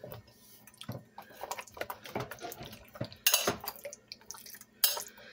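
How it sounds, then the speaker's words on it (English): Meatballs and kielbasa are stirred in a crock pot, giving irregular scraping and clinking of a utensil against the pot, with a few sharper knocks, close and alone with no speech. "I am going to give this a stir."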